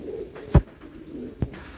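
A pair of German Modern pigeons gives two short, low coos about a second apart, close and clear over a quiet background.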